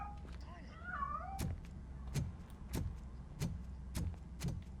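A cat in the RoboCop Rogue City video game gives a few soft meows at the start, followed by a steady series of heavy, evenly spaced footsteps.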